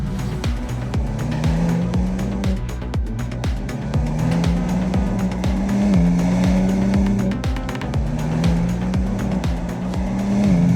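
A BMW accelerating hard with its rear end sliding, engine note rising and falling in repeated surges with tire noise, loud and close throughout.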